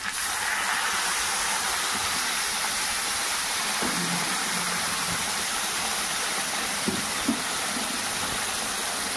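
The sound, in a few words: hot water poured into chicken curry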